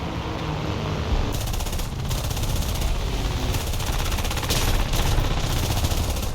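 Hawker Hurricane wing machine guns in War Thunder hammer out sustained, dense bursts of rapid fire at close range, loud and continuous with brief gaps between strings of shots.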